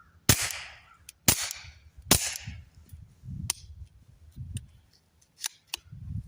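Suppressed .22 gunshots from a Ruger Mark IV 22/45 Lite fitted with an AAC Element 3 suppressor, fired outdoors at a range: three sharp, fairly loud cracks at steady one-second spacing, then several fainter, quicker shots with low rumble between.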